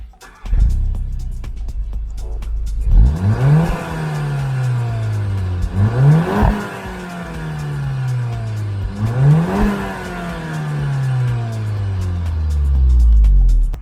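A stock VW Golf MK7 GTI with a 2-litre turbo engine revs hard from idle in four rising sweeps, each falling back between pulls, loud and close with no talking.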